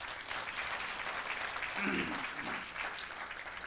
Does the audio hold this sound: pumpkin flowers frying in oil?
no